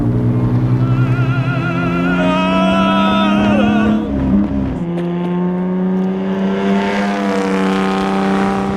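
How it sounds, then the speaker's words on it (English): A loud, close 60-degree V6 engine of a grand touring car drones steadily, its pitch dipping as it shifts, then climbing again as it pulls under throttle. "It's a wonderful sound, that 60-degree V6."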